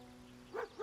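A dog companion in a fantasy role-playing video game gives two short barks, close and fairly loud, over a steady humming game soundtrack.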